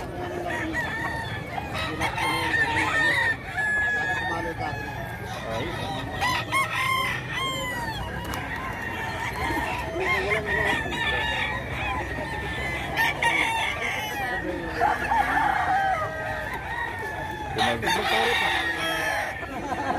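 Many fighting roosters at a gamefowl yard in Bocaue, Bulacan crow again and again over constant clucking, some near and some farther off, with faint voices now and then in the background.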